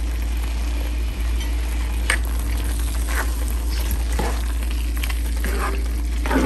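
Pieces of three-quarters-cooked drumstick vegetable frying in a pan and slowly turned over, a steady close sizzle with soft scraping and faint clinks of the spatula throughout.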